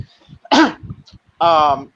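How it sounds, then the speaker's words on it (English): A short, harsh throat-clearing burst near the start, then a brief voiced hum and a longer raspy vocal sound, with faint murmuring between. "I had to clear my throat"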